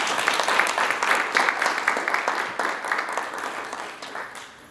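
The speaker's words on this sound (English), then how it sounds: "let's give them all a round of applause" A large conference audience at a national advocacy event applauds an inaugural program class, a full crowd patter that swells in pulsing waves and gradually tapers off toward the end.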